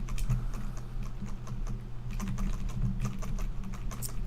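Quiet, soft keystrokes on a non-mechanical computer keyboard tap along in an irregular, steady rhythm over a low background hum.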